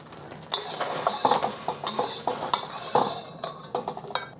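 Clattering kitchen noise as food is scraped from a pan back into the same bowl while making fried noodles, with repeated knocks and clinks of utensils against cookware, close and moderately loud, no talking.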